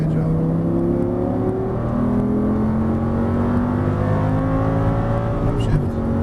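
Audi R8 accelerating on a race track, a steady close engine drone with rising whirring pitch as it pulls out of a corner, under a driving instructor's intermittent talk.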